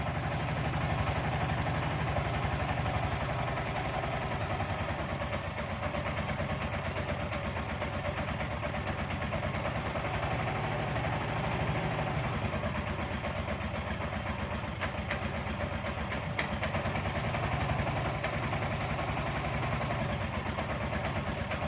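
A tuk-tuk's small engine idles steadily with a constant rattling vibration, unchanging and continuous throughout, fairly close, in Egypt.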